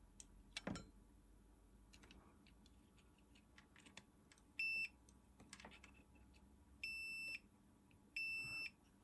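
Short electronic beeps, three of them, spaced a couple of seconds apart from a Super Nintendo game cartridge, over a quiet room with faint clicks and handling noise.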